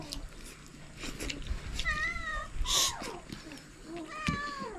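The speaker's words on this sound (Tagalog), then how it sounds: "May pusa dito sa kilid kumain ng hingi." A cat meows repeatedly while eating, several wavering, drawn-out cries close by, with people talking around it.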